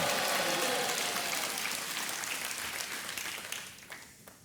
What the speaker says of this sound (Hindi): और तालियां बजती रहनी चाहिए देवी और सज्जनों